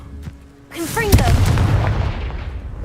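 The Confringo blasting spell from a Harry Potter video game goes off as one sudden booming blast with a whooshing sweep, then a rumbling tail fades over a couple of seconds.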